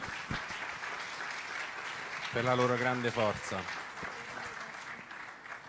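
Audience applause for Thomas and Kate Evans at the Atreju award ceremony, a swell of clapping that rises midway under a speaker's amplified voice, with talk continuing before and after.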